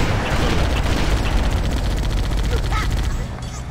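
Dense, continuous gunfire from a firefight in Halo: Combat Evolved, a rapid barrage of overlapping shots with booming blasts and loud battle noise throughout, fading slightly near the end.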